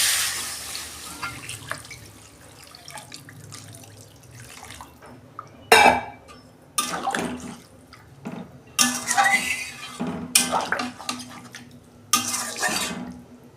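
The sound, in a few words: water being poured into fish curry in a pan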